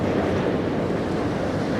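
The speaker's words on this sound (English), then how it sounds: "A little windy, a little rainy." Steady loud wind and rain wash outdoors in the DUMBO neighborhood of Brooklyn by the Brooklyn Bridge, a continuous broadband roar buffeting the microphone with no breaks.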